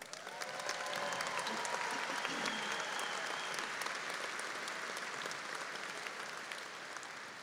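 A large commencement crowd gives graduates a round of applause at a university ceremony, with sustained, dense clapping that fills the hall steadily for over seven seconds, plus a few faint cheers.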